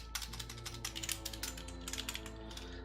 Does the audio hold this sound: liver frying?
no